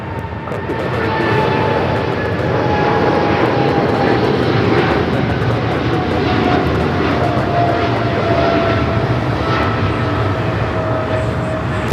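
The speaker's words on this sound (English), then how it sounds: "That is American Airlines 1687 taking off to Dallas Fort Worth on the 777-300ER" An American Airlines Boeing 777-300ER takes off from LAX bound for Dallas Fort Worth, its jet engines a loud, steady roar with a whining tone that slowly falls in pitch, holding at full strength for the whole stretch.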